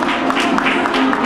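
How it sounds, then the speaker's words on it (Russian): Applause from a crowd welcoming guests from Astrakhan in Makhachkala, Dagestan, at an interregional forum of foster parents, heard as a steady, dense wash of clapping throughout the short moment. "Вот так аплодисментами в Махачкале приветствуют гостей из Астрахани."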